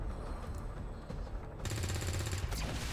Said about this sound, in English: and then just take some shots